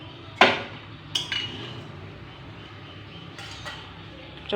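Eggs being set into a pot of hot water give a few sharp metallic clinks and knocks against the pot, with quiet pauses in between.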